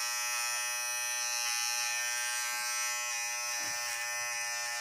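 A Nova 216 electric hair trimmer runs steadily against an arm, giving a constant loud, buzzing whine with faint brushing touches as it moves across the skin and no talking.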